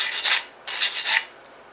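Sandpaper rasps against a burr inside a metal tube on a torque converter repair for a 420cc Predator engine, three or four quick, close scrubbing strokes with short pauses between.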